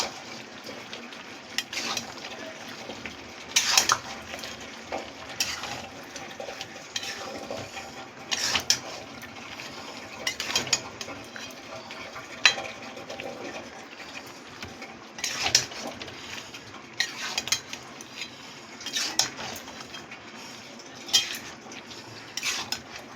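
A spoon scrapes and clinks against a pan as mutton mince cooked with green jackfruit is stirred, in irregular bursts of metallic knocks over a quiet kitchen background with no talking.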